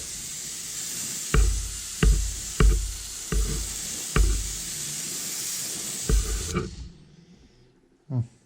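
Steady aerosol hiss of fluorescent orange spray paint coating a 13-inch trolling blank, broken by several short bursts of stronger spraying, then stopping abruptly near the end before one small knock.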